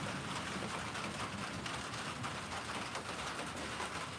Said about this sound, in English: It started to rain on me.